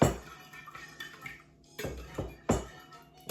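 Spoon stirring food in a metal cooking pot, a few close scraping and clinking strokes separated by brief pauses, fairly quiet with no talking.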